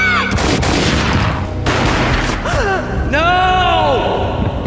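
Gunfire in the Max Payne video game: a loud burst of rapid shots up close, followed by booming thuds and swelling music, with a voice speaking over part of it.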